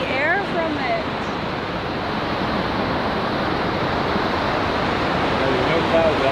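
Niagara Falls roaring under a clear sky, a dense, continuous wall of rushing water and mist that stays loud and even throughout, with a brief voice near the start.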